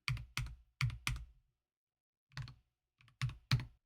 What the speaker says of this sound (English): I can type a number, I can type text,